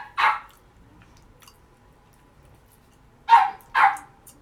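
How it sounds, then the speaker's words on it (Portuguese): A dog barks during a home live stream: one sharp bark, a pause of about three seconds, then two more barks in quick succession, moderately near and heard alone. "Vai ter um pouquinho de barulho, que é cachorro latindo"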